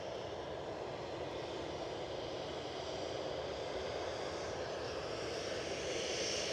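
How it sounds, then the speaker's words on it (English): A Ryanair airliner at Edinburgh Airport departs for London Stansted, its engines a steady broad roar heard from a distance, unbroken by any talk. "Ryanair on shot, off to London, London Stansted."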